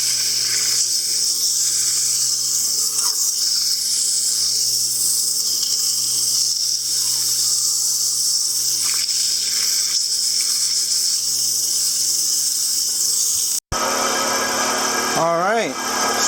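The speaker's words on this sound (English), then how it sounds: "A lot of sanding." Steady, close abrasive rasping of sandpaper against a wood-turned piece, running continuously for most of the stretch, then breaking off abruptly into a brief different sound near the end.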